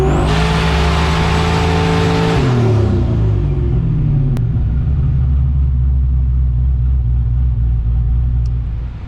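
A turbocharged small-block Buick engine tuned with a Holley Sniper runs on a dyno, loud and close, holding high revs with a harsh roar, then dropping sharply around two and a half seconds and settling into a deep rumbling idle that fades near the end.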